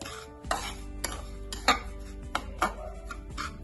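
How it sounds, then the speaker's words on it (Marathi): Semolina roasting in ghee in a pan, a spoon scraping and clinking against the metal in several separate strokes over a steady low background, close and moderately loud, no voices. "तुपामध्ये रवा छान भाजून घ्यायचा।"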